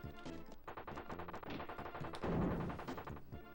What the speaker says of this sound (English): just go down when you hear that shooting sound